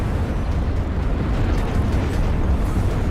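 Cannons fire and explosions rumble in the real-time strategy game Ashes of the Singularity, a dense, loud, continuous low roar of blasts with no distinct gaps.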